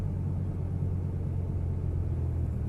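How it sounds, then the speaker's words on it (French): A Porsche passes on the Issoire race circuit, heard as a steady, moderately loud low engine rumble from inside a waiting car, with no clear peak as it goes by. "On va laisser passer la Porsche."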